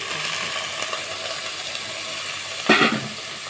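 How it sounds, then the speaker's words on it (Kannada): Onion, green chili, tomato and curry leaves frying in hot oil for fish curry, a steady hiss throughout with a brief louder sizzle burst near the end; no talk. "ಈ ಥರ ಈರುಳ್ಳಿ ಹಸಿಮೆಣಸು ಜುಮುನಿಕೆ ಎಲ್ಲ ಫ್ರೈ ಮಾಡ್ಕೊತಾ ಇದ್ದೀನಿ"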